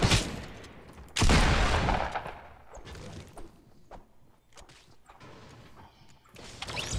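Gunfire in the video game Fortnite: a loud burst of shots near the start, then scattered quieter shots and impacts, with another burst building near the end.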